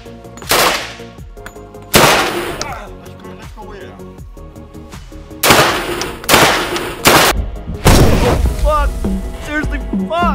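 Gunfire effects for an animated action film, with loud broadband shots and bursts landing in separate volleys and a few lone booming reports. Echoes and a sustained background score fill the gaps between them.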